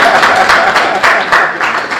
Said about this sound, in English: Clap for me now.